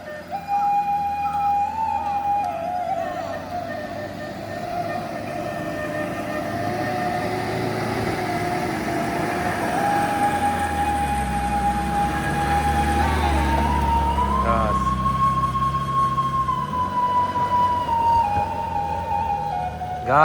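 A Nissan Terrano strains up a steep hill road, its engine droning loud and steady with a sustained whine that rises and falls in pitch over a low rumble, continuous throughout with no talk.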